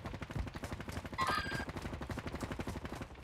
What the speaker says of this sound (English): He's shooting at someone on those rocks.